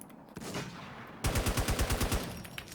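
Rapid automatic gunfire in the AfterLife RP video game, a burst of about a dozen evenly spaced shots after a quieter lead-in, loud and close.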